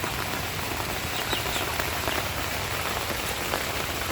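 Steady rain falls during the rainy season, a dense, even hiss of drops pattering on surfaces close by, continuous and moderately loud with no voices.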